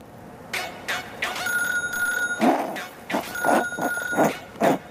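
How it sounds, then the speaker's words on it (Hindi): A telephone rings in bursts of electronic tones close by, interleaved with people talking over and between the rings. "एक सेकंड फोन आ"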